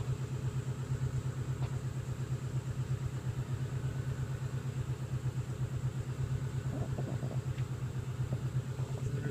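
A 2006 Subaru Legacy with a suspected flywheel fault, clutch engaged and idling, gives off a steady low rhythmic rumble with a fast repeating pulse, close and continuous with no talk.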